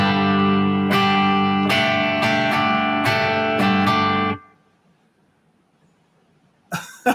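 A guitar strums a suspended-second (sus2) chord, several bright, full strokes in a loose rhythm over about four seconds, loud and close, before cutting off abruptly; a faint short sound follows near the end.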